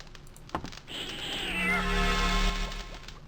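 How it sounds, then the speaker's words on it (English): A cat in the video game Chronomaster lets out a single drawn-out meow that rises and then fades, preceded by a brief soft knock, with no talking. "I'm gonna wake that cat up."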